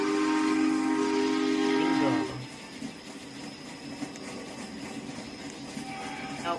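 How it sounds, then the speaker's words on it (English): A passenger train whistle in the Roblox game Jailbreak sounds for about two seconds, then fades into a steady rolling rumble of rail cars moving past. "I think this is the passenger train"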